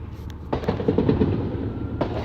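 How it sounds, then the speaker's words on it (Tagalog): Muffled bangs and crackling bursts of Macy's Fourth of July fireworks outside, heard at a distance through walls from inside a Tesla car, with a low steady rumble underneath. "naririnig niyo po ba yung fireworks sa labas?"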